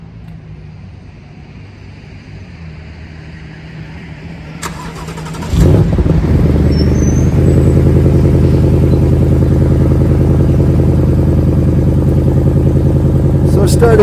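A 2020 Ford Mustang Bullitt with a six-speed manual cranks briefly, catches with a loud burst and settles into a steady, rumbling idle close to the microphone, heard alone without talk.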